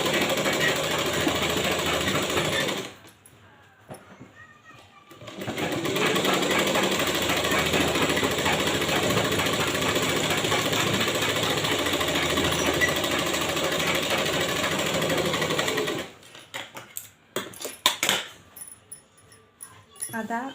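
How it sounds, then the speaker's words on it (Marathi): Sewing machine stitching a blouse sleeve: a loud, close, rapid mechanical whir runs continuously, breaks off for a couple of seconds, resumes for a long stretch, then stops into irregular clicks and handling sounds. "आता आपल्याला वरतून सुद्धा सिलाई करून घ्यायची आहे।"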